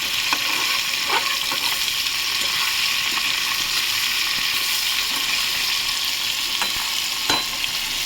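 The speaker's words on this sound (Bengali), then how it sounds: "এইভাবে ভাজাতে হবে।" Pieces of hilsa fish fry with black cumin in a pan of hot oil, giving a dense, even sizzle up close, with a few sharper pops and spatula clicks over the steady crackle.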